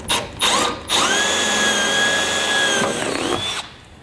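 Power drill boring out aluminum rivets on a vehicle fascia, a close whining spin that starts, holds a steady pitch for a few seconds, then stops.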